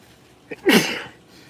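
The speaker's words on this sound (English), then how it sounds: "I think I'm gonna sneeze." A single sharp sneeze, close and loud, preceded by a brief inhale catch, then quiet.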